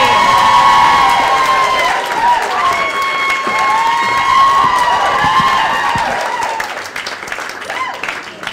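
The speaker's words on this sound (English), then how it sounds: "Ladies and gentlemen, start clapping up for Amanda Levine." A comedy club audience cheers and applauds loudly for a stand-up comedian, with whoops and shouts, the noise slowly tapering off toward the end.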